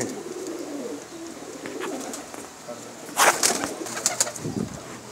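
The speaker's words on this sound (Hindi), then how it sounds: "मेरे कुछ कबूतर हैं जी" Pigeons coo in a series of soft, low throaty calls, close by, with brief wing or movement sounds in between and no talking.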